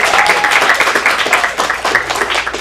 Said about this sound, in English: Give a little round of applause for your guests for coming today.